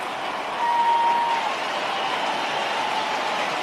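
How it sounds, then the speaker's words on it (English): Baseball stadium crowd roaring as fans stand during a tense at-bat in a Yankees versus Cubs game, a steady, dense wash of distant cheering that holds level throughout with no clear voices. "Now the fans will start to stand and listen to this crowd."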